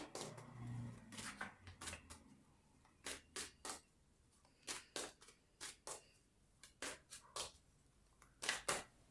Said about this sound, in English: Shuffling forever.